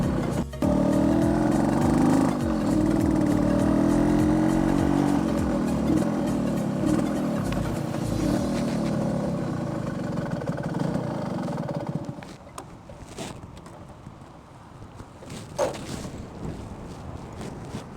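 A 1973 Suzuki A100 classic two-stroke motorcycle is ridden, its engine droning steadily under heavy wind rush for most of the ride before easing off and fading to quieter idling and bumps near the end.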